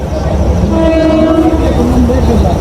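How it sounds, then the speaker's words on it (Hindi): A Pakistan Railways locomotive sounds its departure whistle at night at Wazirabad Junction, a sustained horn tone over steady station rumble, with some background voices. "तो लें जी, डिपार्चर विसल हो गई है लोकोमोटिव की तरफ से।"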